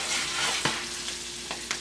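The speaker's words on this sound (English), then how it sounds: "That allows the butter to hit the sides of the pan, and it will help cook the edges of the fish." A salmon fillet fries in butter in a pan, giving a steady, close sizzle with a few faint scraping taps from a utensil. The frying stays even and moderately loud throughout, with no talk.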